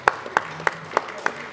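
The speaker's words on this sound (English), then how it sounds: "Come on, let's have a round of applause," Crisp claps at an English Football League awards ceremony, five evenly spaced and fairly close, with a sparse, slow rhythm rather than a full crowd.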